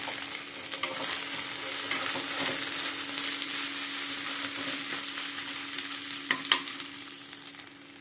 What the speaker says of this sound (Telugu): చూడండి, కరివేపాకు వేసుకుంటాం.